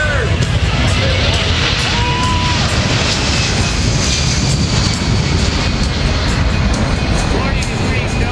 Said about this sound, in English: As the aircraft is rolling down the runway, expect an incredible takeoff.